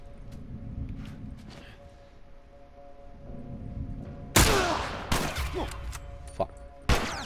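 Hunting rifle fire in The Last of Us: after a low, rumbling lull, three loud, sharp shots crack out a second or two apart, each followed by a short decaying tail.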